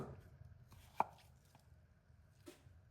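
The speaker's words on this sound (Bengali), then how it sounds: "শুধু মেন শসাটাই নিচ্ছি একটু ছোটো ছোটো সাইজ করে কেটে নিচ্ছি" A knife cuts cucumber into small pieces on a board, producing a few faint, sparse, close taps with one sharper chop standing out, in an otherwise quiet kitchen.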